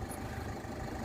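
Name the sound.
car engine idling before being switched off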